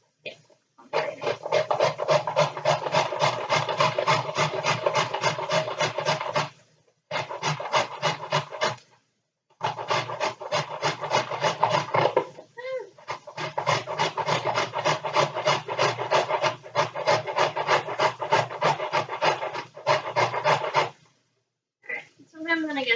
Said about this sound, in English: you could always grate another carrot